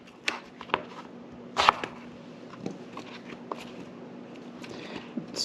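A knife dicing apple on a cutting board gives sparse, irregular sharp taps and knocks, close and fairly quiet, with a faint steady hum underneath.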